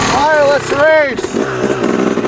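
A two-stroke race dirt bike engine revs up in rising, wailing bursts, loud and close, then settles to a lower burbling idle.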